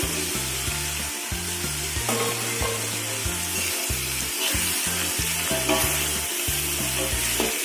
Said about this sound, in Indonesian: kita tumis sampai sayurnya layu